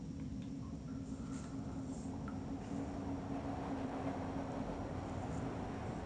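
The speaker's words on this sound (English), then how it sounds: "a train runs past periodically" A train rumbles past in the Broken Sword 2 adventure game, a low, steady, continuous rolling drone with a faint hum above it and no breaks.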